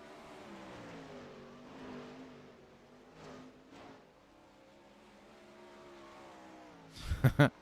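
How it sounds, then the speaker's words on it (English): 410 outlaw sprint race cars roar around a dirt racetrack at Lernerville, a sustained engine drone that swells and fades as cars pass, ending in a louder burst. "the 5 cars still running on the racetrack"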